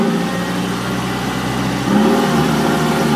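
A car engine, a radio drama sound effect, runs with a steady mid-pitched hum and then rises in pitch as it pulls away, loud and continuous with no talk.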